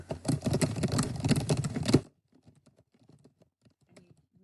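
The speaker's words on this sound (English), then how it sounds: "And you type your paragraph." Rapid, dense keystrokes on a computer keyboard clatter close by for about two seconds, then thin out into scattered, faint taps.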